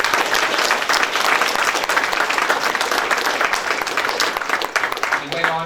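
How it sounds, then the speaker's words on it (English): A crowd at a 2015 political fundraiser in Nepean claps steadily in loud, dense applause that continues without a break, with a voice starting up briefly at the very end. "And yes, you can applaud him for that."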